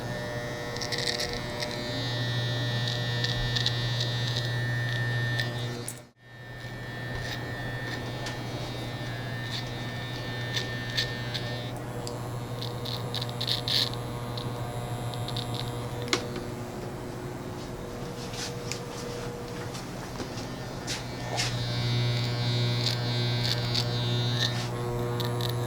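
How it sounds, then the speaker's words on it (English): Electric hair clippers cutting hair in a barber shop, a continuous close buzzing hum that runs almost unbroken for the whole stretch, pausing only once briefly before resuming. "What kind of haircutting machine did you say that was?"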